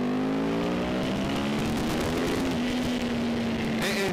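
Yamaha R1 sport motorcycle engine on overrun while downshifting, a steady tonal engine note gradually easing in pitch, fairly loud and continuous with no talking.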